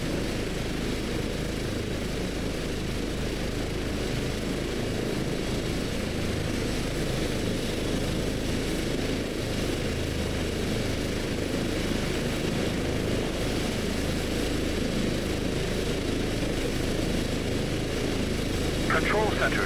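A police helicopter flies in the video game Police Helicopter Simulator on a Polish police patrol, producing a constant, loud rotor and engine drone that continues without a break throughout.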